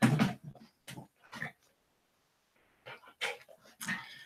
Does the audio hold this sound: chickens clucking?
no